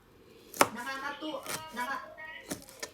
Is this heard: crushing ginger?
yes